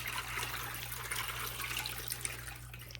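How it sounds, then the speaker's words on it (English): Liquid pours steadily onto penne noodles in a baking dish, a continuous close splashing trickle over a low kitchen hum, with no pause throughout. "Pour this in to the noodles, on top of the noodles."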